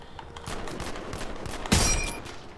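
Video game gunfire: a quick run of sharp, close shots in the opening moments, then a louder, brighter crack with a shattering burst near the end, fairly loud throughout.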